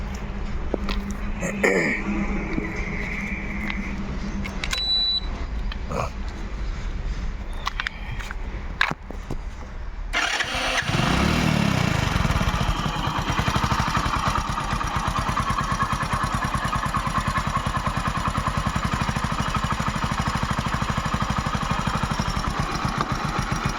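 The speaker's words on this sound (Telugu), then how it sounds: "ఇంజన్ స్టార్ట్ చేసి పెడతాను తప్పకుండా చూడండి ఫ్రెండ్స్" A second-hand Hero Passion Pro motorcycle engine starts partway through and settles into a steady, close idle, preceded by quieter handling noises and a brief voice.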